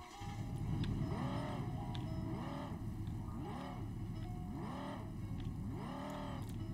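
A Ford Mustang GT500 engine in the Roblox game Drive World, droning loud and steady throughout with repeated rising and falling rev sweeps, like a car accelerating and shifting through gears.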